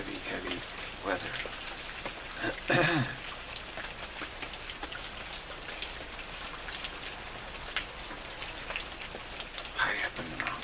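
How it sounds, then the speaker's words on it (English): Rain falls in the mountains, a steady close patter of drops on surfaces with occasional louder splats, continuous and moderately soft throughout. "Gotta go up in the mountains today, it's raining."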